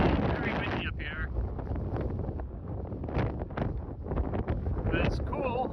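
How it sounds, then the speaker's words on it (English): Strong wind at a high scenic outlook above the Columbia River roars and buffets the microphone continuously, loud and close, with gusts rising and falling throughout. "It's very windy up here."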